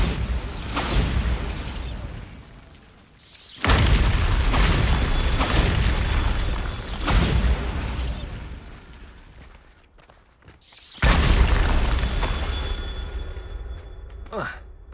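Bombarda blasting spell in Hogwarts Legacy, several heavy booming explosions with rumbling low-end bursts and crackling debris separated by short quieter gaps, loud and close.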